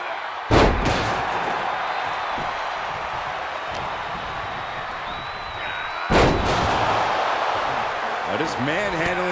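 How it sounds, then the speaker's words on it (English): A fall-away slam in the WWE 2K wrestling game during a Randy Orton vs Kevin Owens ambulance match: two heavy, booming impacts land several seconds apart over a steady, loud arena crowd roar. "And there's the fall-away slam."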